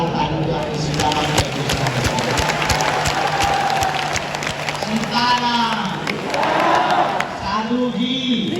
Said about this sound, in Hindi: आप लोग जोरदार ताली बजा के सीताराम